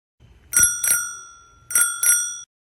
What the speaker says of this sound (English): It also has a really cute bell, which I'll show you.